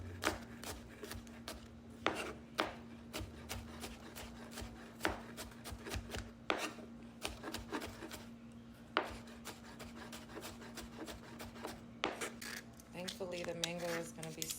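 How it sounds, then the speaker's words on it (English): Peeled garlic is minced with a knife on a board, a quiet run of irregular sharp chopping taps with rapid clusters, close but faint, with a voice briefly heard near the end. "This garlic's gonna be for the salmon. I'm gonna mince it up really nice."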